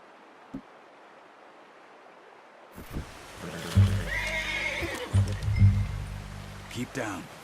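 A horse in the video game Red Dead Redemption 2, out on a hunt, gives a loud, close whinny over a few seconds, with hoof clops and a quiet outdoor background before it.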